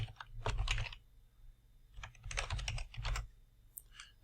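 Close, crisp keystrokes on a computer keyboard come in two quick bursts of rapid typing separated by a short pause, ending with a couple of lighter clicks.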